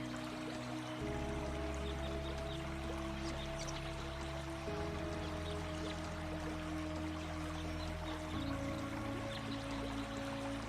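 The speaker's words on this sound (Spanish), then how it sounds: "siguiendo el curso del agua, escuchando su sonido constante rebotar contra la piedra" Steady flow of the Manavgat river in Turkey washing against stone, a constant broadband rush with no voices, its low layers shifting a few times across the span.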